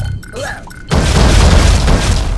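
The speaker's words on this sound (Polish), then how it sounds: "A tak wygląda wybuch na minach." In the video game Oddworld: Abe's Oddysee, a sudden loud boom of an exploding mine bursts out after a moment of quieter game sounds, then a heavy rumbling roar that sustains to the end.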